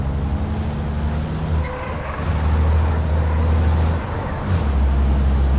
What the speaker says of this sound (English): Can hear the truck behind me with his brakes.